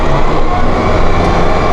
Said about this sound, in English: You can hear that engine rev up.